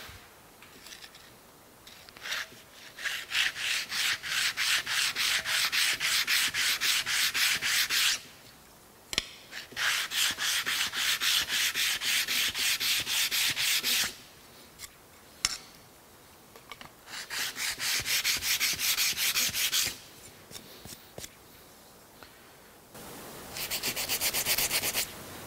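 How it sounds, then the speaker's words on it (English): Metal machinery tag for a Monarch lathe bed being polished by hand, steady close rubbing in long bursts of several seconds separated by short pauses. "So let's polish this one up real quick."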